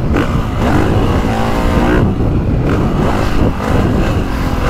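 A 2025 Honda CRF450R motocross bike ridden on a motocross track, its engine roaring loud and close throughout with steady throttle swells and brief dips, no talk over it.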